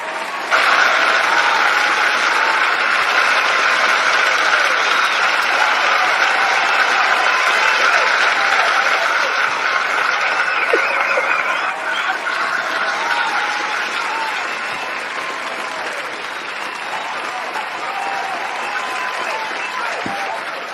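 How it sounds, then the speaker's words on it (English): Applause from a crowd, a dense, loud, continuous clapping that runs for about twenty seconds and eases slightly toward the end. "It's claps all the way around because my sister's in the building."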